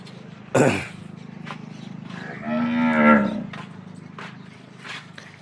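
A freshly calved cow on a farm gives a single low, drawn-out moo in the middle, close and clear, with a sharp knock before it, faint thumps around it, and a steady low hum underneath.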